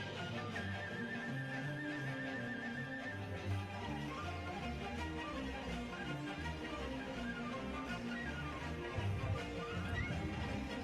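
Horses whinny and neigh repeatedly over a continuous, busy background, with a steady clatter that fits hooves trotting.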